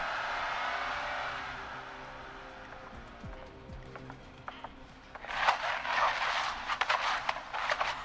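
A car in a video game pulls away from a standstill, its engine hum giving way to a louder, busier burst of driving noise with clattering, while the scene stays fairly quiet overall.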